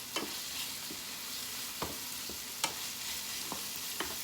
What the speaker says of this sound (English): I'm going to add it to it. I'm going to stir it in.